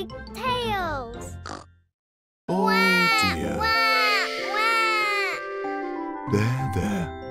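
Cartoon baby pig character crying loudly in bursts, with wailing, oinking cries that rise and fall, a short silent gap, then more sustained sobbing over a soft background tone.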